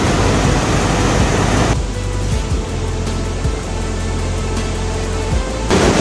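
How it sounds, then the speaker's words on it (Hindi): Rushing water from a waterfall, a loud, steady broadband roar that carries on without a break, louder at the start and end with a softer stretch in the middle. "ये है क्रेजी वाटरफॉल, क्या मस्त दिख रहा है ना यार।"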